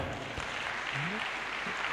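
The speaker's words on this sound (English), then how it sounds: "Can we clap for the choir?" A church congregation claps for the choir during a sermon, a steady wash of applause that fills the whole two seconds at moderate, even loudness with a faint voice or tone briefly underneath.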